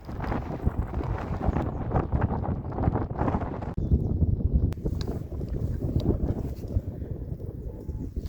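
Strong wind on Uludağ mountain buffets the microphone in steady, heavy gusts, a rumbling roar that never lets up.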